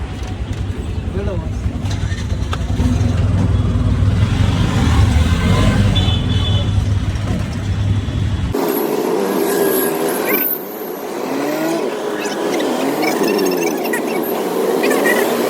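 An auto rickshaw pulls up and drives near a railway station in India, its low engine rumble running steadily under people talking, with the surrounding noise shifting partway through as it moves off.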